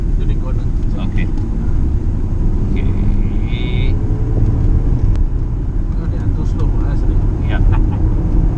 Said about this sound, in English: Engine's very free revving.